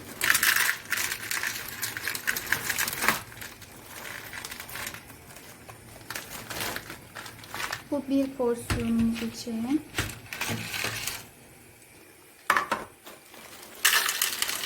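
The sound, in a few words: frozen corn kernels being poured and measured out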